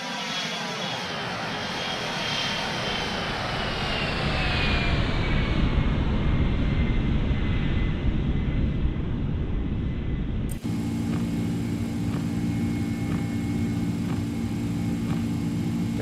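Airliner engines roar steadily as the plane climbs after takeoff in the X-Plane 12 flight simulator. A loud, even jet rumble grows slightly, then the sound changes abruptly to a droning cabin hum with tonal whines.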